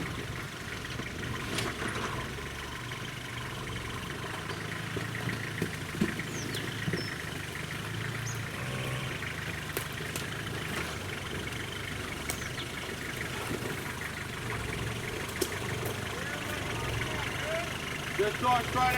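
Toyota Hilux on 35-inch Mickey Thompson tyres idling and crawling along a rough 4WD trail at Jellore, a steady mid-low engine drone with scattered knocks and clunks, voices talking over it throughout.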